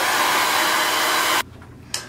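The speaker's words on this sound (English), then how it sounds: "So take your hair dryer and blow dry this until it's not tacky or wet anymore." A hair dryer blows with a loud, steady whoosh, then cuts off abruptly; a brief burst of airflow returns near the end.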